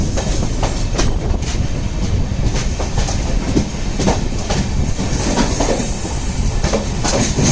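A train draws into a platform at Madgaon station, a steady loud rumble of rolling wheels with rhythmic clicks over rail joints and a faint hiss, close and continuous throughout.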